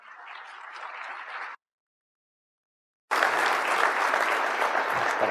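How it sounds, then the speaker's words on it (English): An audience applauds to welcome a speaker at a West Point lecture: a first stretch of clapping, a full silent gap of about a second and a half, then a louder, denser burst of applause from the crowd. "please welcome him with a warm applause"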